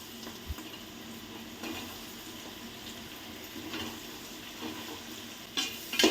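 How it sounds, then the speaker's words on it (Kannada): Green chillies and onions fry in a pan on a small stove. The sizzle is soft and steady, with light stirring and a brief clatter of utensils near the end. "ಪೂರ್ತಿ ಫ್ರೈ ಆಗೋವರೆಗೆ ಅದನ್ನು ಫ್ರೈ ಮಾಡ್ಕೊಬೇಕು."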